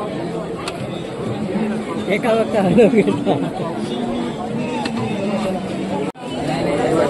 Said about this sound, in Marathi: सकाळपासून हीच गर्दी चालू आहे